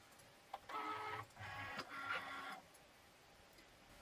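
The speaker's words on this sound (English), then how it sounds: "I'm going to load my mat into my machine." Cricut cutting machine pulls a vinyl cutting mat into its rollers with a faint whirring motor hum in three short pulses, a small click before them.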